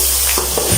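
Crushed ginger-garlic paste fries in a pan for a Mughlai gola kabab qorma, giving a brief, close, steady sizzle with a couple of soft stirring scrapes.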